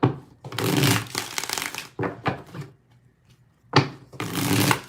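Tarot cards are shuffled by hand in several loud, papery bursts, separated by short quiet gaps.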